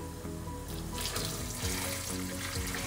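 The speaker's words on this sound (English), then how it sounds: "And then I'm gonna add in water" Water pours into a pot of blended pineapple and ginger sorrel drink, a steady close splashing stream that gets fuller and louder after the first second and keeps running to the end.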